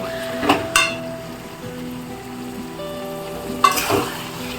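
Turmeric and chili powder fry together in a hot pan for chicken changezi, a steady sizzle under a few sharp metallic scrapes and knocks from stirring near the start and end.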